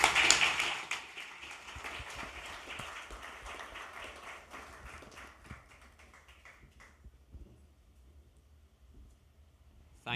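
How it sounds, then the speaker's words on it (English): Audience applause at a literary festival, broad steady clapping that is strongest at the start and slowly thins out, fading to scattered claps and near quiet by the end. "please let's give her another round of applause"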